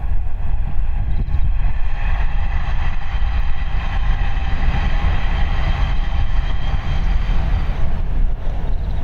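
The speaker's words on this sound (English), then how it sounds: "Loud train." A loud, continuous rumbling roar of a train passing close by, steady throughout with dense low-frequency noise and faint rhythmic clatter.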